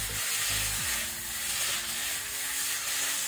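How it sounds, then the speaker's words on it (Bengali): Ground ginger, cumin and chili paste hits a hot pan while cooking a tangra fish curry, giving a steady, bright hissing sizzle that stays loud and even throughout, with a low hum beneath. "তো এখানে আদা জিরে লঙ্কা একসঙ্গে বেটে রাখা মশলা দিয়ে দেবো"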